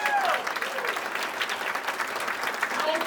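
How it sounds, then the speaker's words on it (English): An audience at a political rally for a West Virginia governor candidate breaks into dense, steady applause, loud and sustained throughout with a faint crowd murmur, and no words spoken over it. "Let's give him another round of applause."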